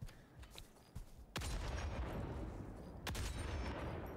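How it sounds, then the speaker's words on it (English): A sharp gunshot bursts out in the co-op shooter Helldivers, then a second loud crack follows a couple of seconds later, each with a rumbling tail over fainter background battle noise. "That's a warning shot."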